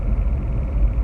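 A steady low rumble from inside a moving pickup truck, with a constant engine and road drone and no voices.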